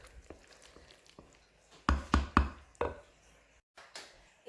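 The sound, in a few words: stirring chicken corn chowder in a pot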